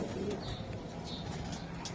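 A light-coloured female racer pigeon coos softly amid a busy background, its low murmuring calls steady and near, with faint talk around it.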